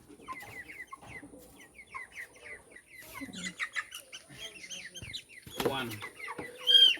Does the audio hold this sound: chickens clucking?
yes